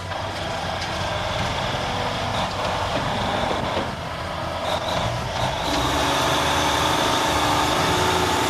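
Heavy oversize transport truck on tire chains, hauling a multi-ton load through deep mud, its engine a loud continuous roar and grind that stays steady and close throughout, without breaks.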